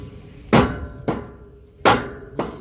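A hammer strikes a Kartar 4000 SV thresher during a part change: four loud metallic bangs in an uneven rhythm, each ringing briefly before the next blow.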